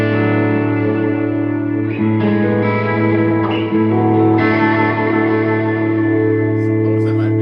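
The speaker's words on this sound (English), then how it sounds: "You can tell my effects are kind of set up for like, I don't know, like maybe 70s distortion." Electric guitar played through an effects chain set for 1970s-style distortion, with sustained, reverb- and echo-laden chords ringing steadily for the whole stretch, close and loud.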